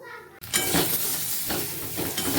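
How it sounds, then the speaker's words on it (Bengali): Fish sizzling loudly in hot oil in a home kitchen pan, a steady crackling hiss that starts abruptly and continues close up, with faint stirring. "চলো মাছটাকে ভেজে নিই তাড়াতাড়ি"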